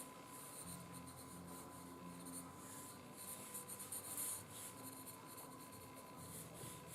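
Charcoal pencil on paper laying in a light gesture drawing of a figure, a steady soft scratching and rubbing that carries on through the clip at close range with no talking.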